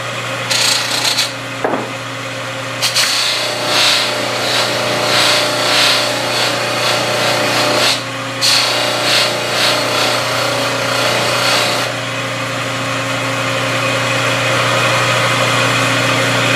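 A buffing machine runs continuously while stainless-and-aluminum compound polishes an aluminum motorcycle part at 1200 grit, giving a loud, steady whirring drone with rubbing and rasping as the piece is pressed against the wheel.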